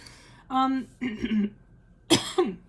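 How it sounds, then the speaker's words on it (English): Several throaty coughs close to the microphone, in two separated bursts with a short pause between them. "I just coughed in your ear."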